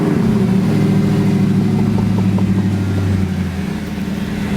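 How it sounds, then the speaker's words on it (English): A high-mileage Audi R8 supercar revs close by, its engine rumbling and rising in several quick blips before settling back toward idle, loud and alone. "Are you happy with the sound of the R8, Amar?"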